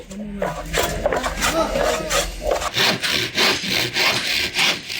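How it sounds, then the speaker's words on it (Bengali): Construction carpenters working on stalls at the Dhaka International Trade Fair grounds, with hammers, chisels and drill machines: steady rasping saw-like strokes on wood, loud and close, with busy background noise throughout. "পূর্বাঞ্চলের মেলা প্রাঙ্গণ জুড়ে এখন শুধু হাতুড়ি, বাটাল আর ড্রিল মেশিনের শব্দ।"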